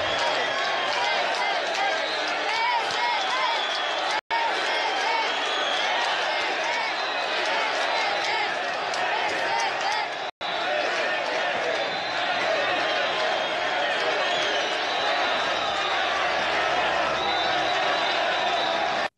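Dozens of protesters gathered at midday in front of the Arad prefecture in Romania booing loudly, a dense continuous crowd roar of jeers and shouts filling the whole stretch with no letup.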